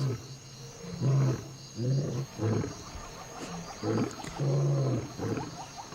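A lion gives a series of deep, rhythmic roaring grunts, about seven pulses spaced roughly half a second to a second apart, fairly close and heard alone in an open outdoor setting.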